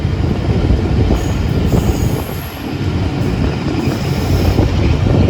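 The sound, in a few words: passing train on railway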